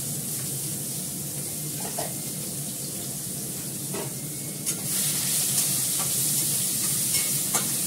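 Onions sizzle steadily in a hot pan, with a constant frying hiss and occasional scrapes from stirring, faint clinks scattered throughout, and no voices.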